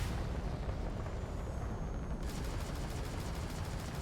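A spaceship auto cannon fires in Starfield, a dense roaring rumble of rapid fire that sharpens partway through into quick, evenly spaced crackling shots, loud and continuous with no voices.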